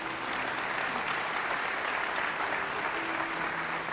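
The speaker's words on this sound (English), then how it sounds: "Let's give one more round of applause for our students at Tomball Star Academy." An audience at a school district awards ceremony applauds students, a dense, sustained round of clapping filling the hall, with faint voices mixed in.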